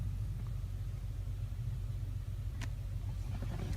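A luxury SUV engine runs at a steady idle, a low, continuous rumble heard from inside the cabin, with a brief click near the end.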